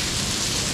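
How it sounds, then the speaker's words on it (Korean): Heavy rain pours down on a Jirisan mountain ridge near Cheonghak pond, a dense, steady broadband hiss of downpour close by with no voices. "비가 와 어마어마하게 쏟아지네."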